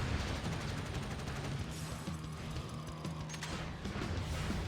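Grenade weapons fire during a Jak X racing game, a dense rattling burst of gunfire and mechanical clatter over a constant roaring engine and game noise.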